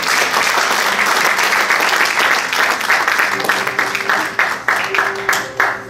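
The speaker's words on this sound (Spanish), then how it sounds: "Denle un aplauso al Señor." A church congregation applauds, producing dense, loud, sustained clapping. Toward the end the applause thins into more distinct individual claps.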